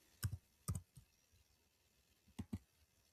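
A computer keyboard tapped in a few brief clusters of keystrokes, quiet and close, with silent gaps between the bursts.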